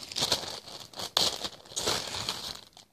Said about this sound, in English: he packages it like this, in a plastic bag